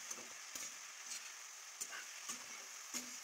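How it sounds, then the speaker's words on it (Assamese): Mustard greens and boiled lentils being stirred in a hot pan, with a steady sizzle of frying underneath and a few short scraping strokes of the spoon at intervals, close and fairly quiet. "লাই শাকখিনি দিয়াৰ পিছতে অকণমান লৰাই দিলোঁ"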